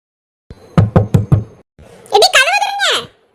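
Four firm, evenly spaced knocks on a door, close and loud, followed by a voice calling out in a drawn, rising-and-falling tone.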